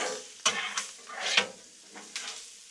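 Chicken wings sizzle on a Blackstone griddle as they are moved around; a soft frying hiss is punctuated by a few quick spatula scrapes, faint and close, with no talking.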